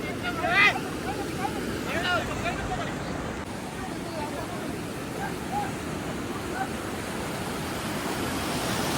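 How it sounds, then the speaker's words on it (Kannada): Rough, steady rush of fast-moving water fills the clip, with wind buffeting the microphone and faint voices briefly audible early on. "ನೀರಿನ ರಭಸ ಜೋರಾಗಿದೆ"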